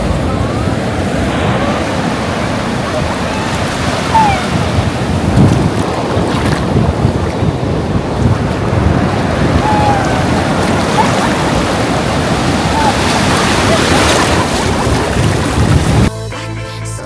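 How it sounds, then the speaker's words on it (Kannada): Surf breaks steadily on a beach with strong wind buffeting the microphone, a continuous loud wash of waves rolling in without pause and no voices. "ಬೀಚಲ್ಲಿ ಅಲೆಗಳ ಶಬ್ದ ಕೇಳೋದೇ ಒಂಥರ ರಿಲ್ಯಾಕ್ಸಿಂಗ್ ಆಗಿ ಫೀಲ್ ಆಗುತ್ತೆ."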